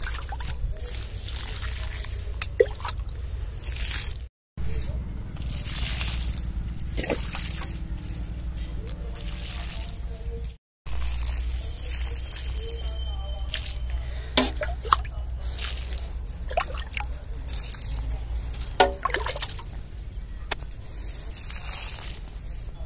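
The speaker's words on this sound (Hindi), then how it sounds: "अभी टमाटर में पानी डाल दिए" Water trickles and splashes as it is poured onto tomato plants in a field, with soft sloshing and dribbling close by, a few brief gaps and occasional louder splashes.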